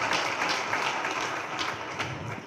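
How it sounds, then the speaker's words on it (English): Audience applause for a school principal at a gathering, continuous dense clapping at moderate level, fairly even and sustained. "A huge round of applause to the principal and Mr."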